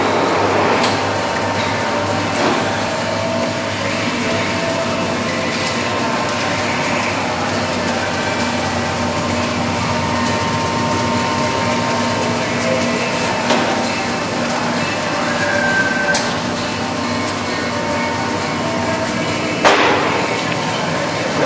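Lodge & Shipley 19 x 30 power-turn tool room lathe, recently out of long-term standby storage, running at low speed in a shop: a steady mechanical drone with faint ticks and clunks, and no speech.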